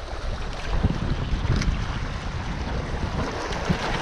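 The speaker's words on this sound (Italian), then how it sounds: "Purtroppo il vento non mi aiuta" Strong wind buffeting the microphone at sea during spin fishing from shore or boat, a steady loud roar with faint wave wash beneath and no speech.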